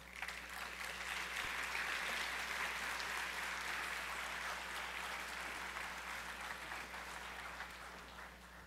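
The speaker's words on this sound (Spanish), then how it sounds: "Recibamos, por favor, con un fuerte aplauso a nuestra conferencista." An audience at a teachers' forum gives a strong round of applause welcoming a lecturer, sustained and even throughout, a full room of clapping with no voices over it.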